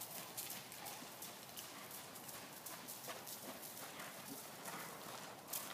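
Horse hooves canter in a steady rhythmic beat during a riding lesson, faint and somewhat distant, with continuous soft thuds and no talk.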